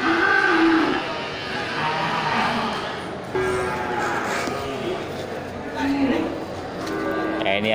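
Several Aceh cattle moo loudly and close by, long drawn-out calls overlapping with people talking in the background.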